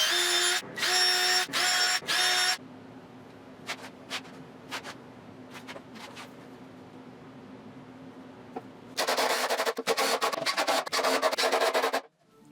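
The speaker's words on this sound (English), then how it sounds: "I drilled and countersunk several mounting holes and then glued and fastened it down into place." A power drill boring and countersinking mounting holes in a wooden slab for a headboard, two loud whirring bursts with short stops, a quieter stretch with faint clicks, then a longer sustained drilling run.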